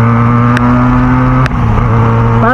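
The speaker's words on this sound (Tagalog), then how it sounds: "So nandun pa rin yung lakas ng tunog ni Benelli" A Benelli 302S motorcycle fitted with a twisted mid pipe exhaust roars loudly and close by, holding a steady, throaty drone with a slight rise in revs near the end.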